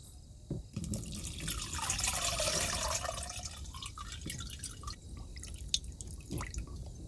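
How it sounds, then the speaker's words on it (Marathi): Pesticide mixture poured into a spray tank for spraying a chickpea crop, a steady liquid pour with splashes and drips, moderately close and alone. "आता हे मिश्रण आपण टाकीमध्ये टाकून देणार आहोत"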